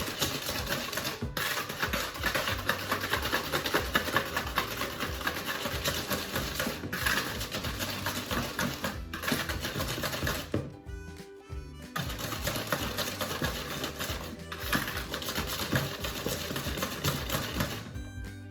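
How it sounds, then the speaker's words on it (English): Eggs are whisked briskly in a bowl for triple chocolate brownies, producing rapid close clattering taps against the bowl that run almost continuously, with one brief pause. "So just give that a little whisk"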